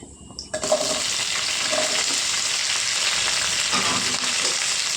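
Green chillies hit hot oil with urad dal, setting off a loud, sudden sizzle that settles into a steady close hiss for the rest, with no voices.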